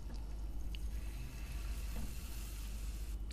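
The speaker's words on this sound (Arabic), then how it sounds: "قلت احمرهم كده مع التوم شويه" Steady oily sizzling of chili peppers and garlic frying in a pan, constant and close, with faint clinks of stirring now and then.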